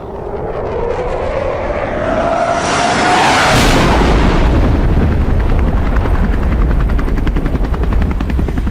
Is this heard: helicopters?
yes